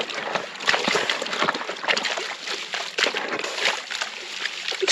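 Water sloshing and splashing as a gold pan of red river gravel is shaken vigorously back and forth, a continuous busy wet churning with irregular surges, close and fairly loud.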